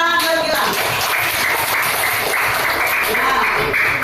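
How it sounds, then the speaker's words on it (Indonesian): Applause and clapping from a primary school classroom, a steady patter of many small hands lasting several seconds at moderate volume with some voices mixed in. "Udah, tepuk tangan buat Gilang."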